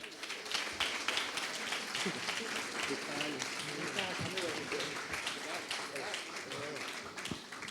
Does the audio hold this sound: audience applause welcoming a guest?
yes